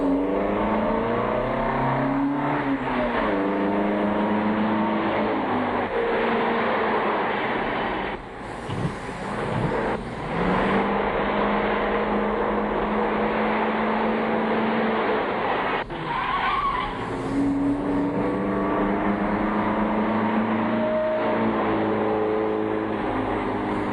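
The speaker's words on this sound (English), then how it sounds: "Pursuit of a red car," A red sports car's engine roars during a police pursuit, with revving gear changes, screeching tires and skids, loud and close throughout.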